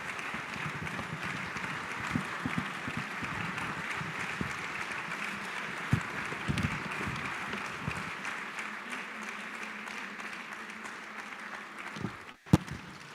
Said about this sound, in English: Let's keep clapping till he takes a seat. Indeed, His Eminence deserves a standing ovation.